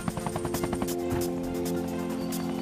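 Helicopter in an animated Tarzan film, its rotor chopping in a rapid, steady beat that stays loud and close from start to finish, with no voices over it.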